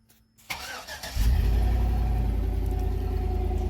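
A Chevrolet Tahoe 4x4 truck engine cranks briefly and catches, then settles into a steady loud idle, heard close with no talking.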